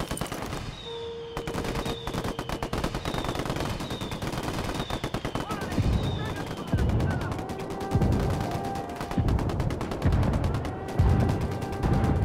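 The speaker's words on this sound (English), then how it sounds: "I called the rebels for some indirect fire." Rebel indirect fire in Ghost Recon Wildlands: sustained rapid gunfire rattles for about twelve seconds, with heavier booming impacts pulsing through the second half, loud and continuous.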